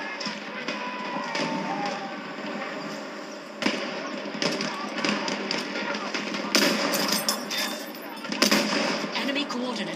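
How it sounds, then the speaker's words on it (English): Machine gun fire in Battlefield 1, rapid bursts and scattered gunshots cracking through a dense battlefield din, with shouted in-game voice lines mixed in. "It's a machine gun!"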